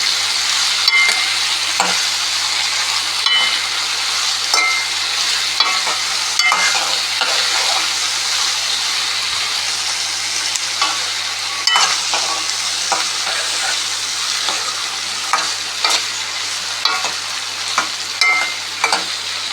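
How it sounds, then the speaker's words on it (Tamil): Onion and eggplant stir-fry in oil for a kondakadalai vatha kuzhambu, giving a steady close sizzle broken by frequent scraping stirs, with no voices. "நல்லா வெங்காயம் வந்துடுச்சு, கத்திரிக்காய் நல்லா வதங்கிடுச்சு"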